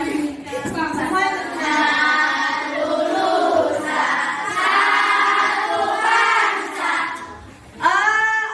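A group of people sing the Indonesian national song Satu Nusa Satu Bangsa together, sustained voices rising and falling in unison at close range, with a short pause near the end before the singing picks up again.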